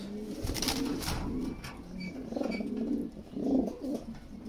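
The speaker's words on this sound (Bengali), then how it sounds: "আপনারা দেখতেছেন এক pair red Lahori running pair" A pair of Red Lahori pigeons on a rooftop gives soft, low, repeated cooing phrases, fairly faint and close, rising and falling over a few seconds.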